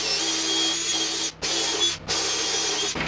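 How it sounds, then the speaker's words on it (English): A power drill bores holes in a greenBull CNC machine frame during wiring work, a steady high whine running nearly continuously with two brief stops in between. "I'm going to take two holes and drill them right here"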